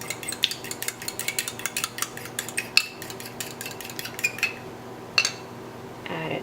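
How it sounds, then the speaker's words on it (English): A fork whisks eggs and egg yolks in a bowl for cupcake batter, giving quick, steady rhythmic clicks of metal against the bowl at close range and fairly quiet, with a brief pause near the end. "Now I'm going to slightly whisk the egg and the egg yolks with a fork."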